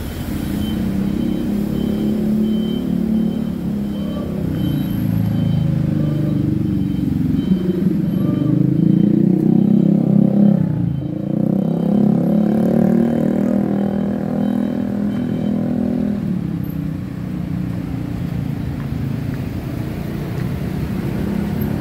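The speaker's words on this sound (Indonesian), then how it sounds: "Di depan kita ini stasiun Gondangdia." Steady street traffic outside Gondangdia station in Jakarta, cars and motorbikes rumbling close by in a continuous low roar that swells mid-way as a vehicle passes, with a faint voice at times.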